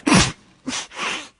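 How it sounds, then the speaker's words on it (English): A person who is feeling unwell sneezes once, a sharp, close burst followed by two shorter breathy gusts, then silence. "Listen to what we say in English when someone sneezes."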